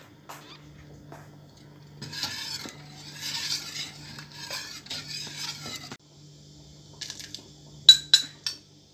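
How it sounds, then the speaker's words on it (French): Harira soup being stirred after a flour-and-water mixture is added, with a utensil scraping and clinking against the pot in bursts and a few sharper clinks near the end, no talk. "Et ensuite, faut mélanger la soupe."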